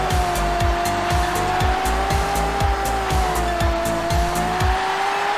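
Race car tyres squealing in a continuous skid in the racing video game Race Condition, over a loud engine drone and a repeating rhythmic thump from the game's sound.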